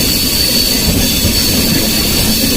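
The 12565 Bihar Sampark Kranti superfast train runs at speed, heard from inside a 3AC coach as a loud, constant rumble of wheels on rails with a faint steady whine above it.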